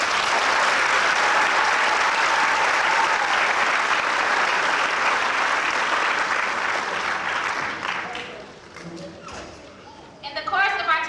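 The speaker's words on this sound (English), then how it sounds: "Let's give them a round of applause." Sustained, loud applause from a school graduation audience honoring the graduating class at Malcolm X Academy in Detroit, dense clapping that fades after about eight seconds into scattered claps and a voice.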